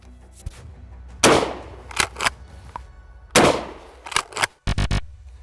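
Pump-action shotgun firing in a sequence of loud, sharp blasts spaced a second or two apart, each followed by quick mechanical clacks of the action being cycled, with a final hard metallic burst at the end.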